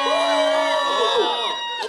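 The front section of an outdoor K-pop concert crowd on a Hongdae street lets out a loud massed shout, many voices whooping and screaming together before fading.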